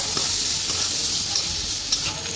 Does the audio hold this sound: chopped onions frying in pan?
yes